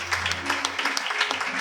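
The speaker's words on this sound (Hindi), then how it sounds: "आइए जोरदार ताली बजाएं इन पिताओं के लिए।" Church congregation applauding for fathers at a Father's Day service, a dense ongoing patter of many hands clapping at moderate loudness, fairly close, with a faint low hum underneath.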